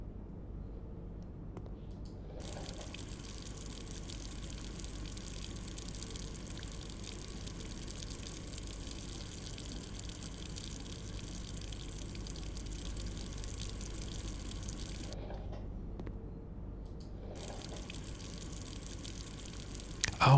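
Water flowing steadily in the game Blue Prince, a soft continuous gushing like a running tap or pump that pauses briefly twice before resuming.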